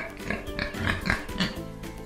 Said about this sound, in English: The pig entered the yam garden.